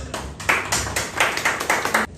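Audience applause at an entrepreneurship seminar, a short burst of many hands clapping close and loud, rapid and uneven, with no talking over it.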